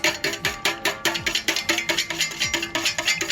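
Two eggs beaten briskly in a bowl with a fork or whisk, a fast steady run of clicking, tapping strokes close up, ahead of breading chicken breast Milanese.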